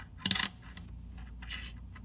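Pennies from an unwrapped roll spill and clink together in a short bright metallic burst, close and clear, followed by a fainter jingle as the coins settle.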